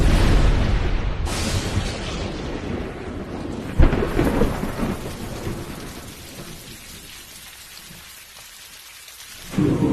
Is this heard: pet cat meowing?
no